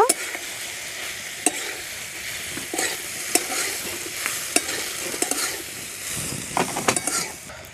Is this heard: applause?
no